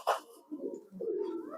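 A fancy pigeon on a bird farm gives soft, low, close coos in a short run after a brief initial note, with no talk over it.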